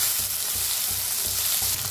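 Small local (desi) tomatoes fry in a pan for vangyache bharit, a steady close sizzle with a soft rhythmic stirring thump underneath, no talking.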